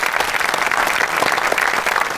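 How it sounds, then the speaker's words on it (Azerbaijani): Sustained applause from a comedy show audience, thick and loud with many overlapping claps, holding an even level from start to finish with no talk heard. "VIP Sister Style butikinə bir alqışlar gəlsin."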